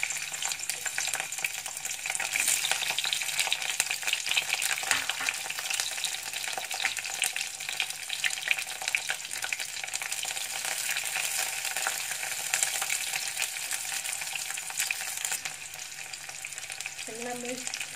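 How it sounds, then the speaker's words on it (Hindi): Capsicum fries in hot oil in a kadai, giving a loud, steady, dense sizzle that crackles close by without a break for the whole stretch, with no talking over it. "तेल गर्म हो गया है, इसमें हम शिमला मिर्च डालते हैं।"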